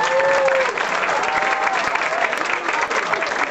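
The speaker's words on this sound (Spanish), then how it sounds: "Un aplauso a Tamaulipas por aquí presente." An audience at a son music tribute event applauds for the Tamaulipas delegation, a full, steady round of clapping from many hands, with some voices mixed in.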